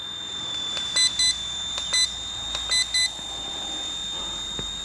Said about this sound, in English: That's 2 beeps high rate, 1 beep low rate.